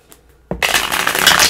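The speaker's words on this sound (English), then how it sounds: "let me shuffle these up" A deck of tarot cards is shuffled once in a quick, close riffle, starting abruptly after a brief quiet moment and continuing as a dense, crisp flutter of cards.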